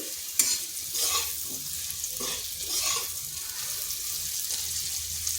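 Pumpkin pieces and potato fry on high heat, a soft, continuous sizzle with occasional stirring clacks and one sharp knock near the start, heard alone without talk.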